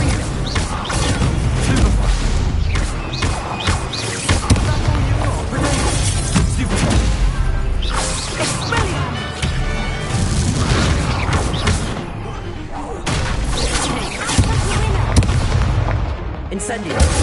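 Fire-spell blasts in a wizard video game boom and crash repeatedly, a chaotic barrage of loud explosions, cracks and rumbling impacts that barely lets up across the stretch.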